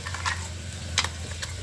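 Crushed peanut powder being stirred and sautéed in a pan over a wood-fired stove, a faint soft sizzle with a few light scraping taps of a spoon against the pan.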